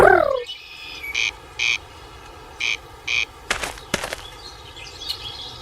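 Frogs croak in the video game Memoranda, a handful of short repeated calls in an uneven rhythm, mixed with birdlike chirps and a few sharp clicks against a quiet ambient background.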